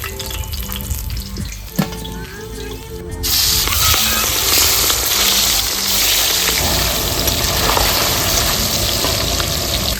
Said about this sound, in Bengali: মাথাগুলো একদম লাল লাল করে ভেজে নিয়েছি